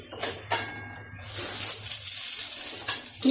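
Pumpkin leaf rolls frying in oil in a pan, a continuous close sizzle with a few clinks and scrapes of a utensil against the pan.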